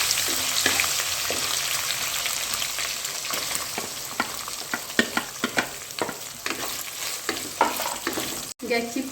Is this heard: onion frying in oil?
yes